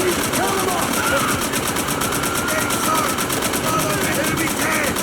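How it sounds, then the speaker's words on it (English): Sustained machine gun fire from the World War II video game Call of Duty: World at War, dense and continuous, with battlefield noise and shouted voices mixed in under it. "Get on those MGs and count them off!"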